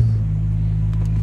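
Porsche engine idling in a parked car at night, a steady low rumble with a constant throbbing hum, close and fairly loud, unchanging over a brief moment.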